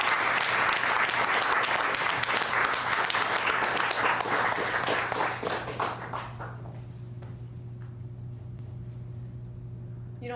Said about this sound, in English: Everybody clap your hands for Lizette Santiago.